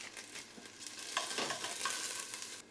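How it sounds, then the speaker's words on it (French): Onion with pepper cooks in olive oil and melted butter cubes in a soft, faint sizzle, marked by light utensil scrapes and a few stirring clinks. "on met un filet d'huile d'olive, 4 petits cubes de beurre comme ça. On met notre oignon à cuire avec un petit peu de poivre."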